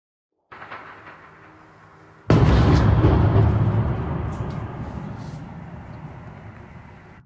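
Explosions in occupied Crimea: after a low rumbling background, a sudden loud blast erupts and fades into a long, rolling roar that slowly decays.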